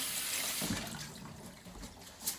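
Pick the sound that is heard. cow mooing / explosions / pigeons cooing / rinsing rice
rinsing rice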